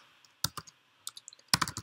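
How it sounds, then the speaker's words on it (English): Computer keyboard typing, heard as two short bursts of crisp, close key clicks separated by a brief pause, quiet and dry with no voices. "I don't know what I'm typing in here"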